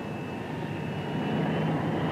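An F-106B jet taxiing during ground runs, heard as a steady, loud engine roar and rumble with a faint high whine, continuous throughout with no talk.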